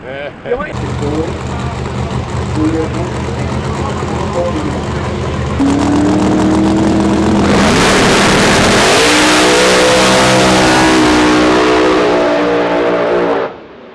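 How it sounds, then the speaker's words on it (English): Chevy street race car accelerating hard down a drag strip, a loud engine roar building and rising in pitch as it pulls away, with crowd noise and voices under it. "Chevy Reed's 197 miles an hour, moving on to the 3rd round"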